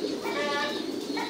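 Pigeons cooing softly in a loft where French and crossbred pigeons are kept, a steady low murmur of coos that runs throughout, with a voice talking over it.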